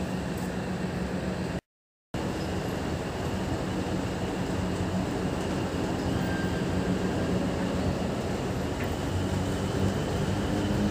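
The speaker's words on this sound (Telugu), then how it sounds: "ట్రైన్ అక్కనపేట్ స్టేషన్ నుంచి డిపార్చర్ అవుతుంది" A Nizamabad–Kacheguda passenger train pulls out of Akkannapet station, giving a steady, fairly loud rumble of wheels and carriages that fills the whole stretch, broken only by a brief gap near the start.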